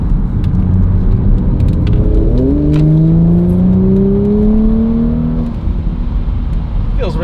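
Audi S4 B9 with a stage 2 tune, its engine running loud and close, rising in rising revs with a steady roar and harmonic sweeps, then settling back.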